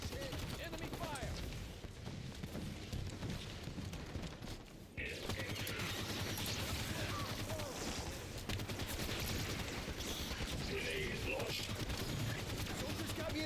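Enemy gunfire in the Halo shooter game, a continuous barrage of rapid shots and automatic fire, loud and dense for most of the stretch, with voices mixed in.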